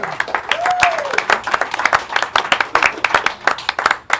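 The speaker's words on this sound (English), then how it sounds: "A round of applause for that." Scattered claps from a small gathering ring out in uneven bursts, mixed with a rising whoop and some voices talking over them.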